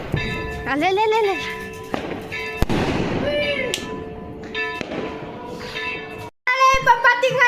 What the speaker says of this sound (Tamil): இப்போ நாங்க பட்டாசு வெடிக்க போறோம்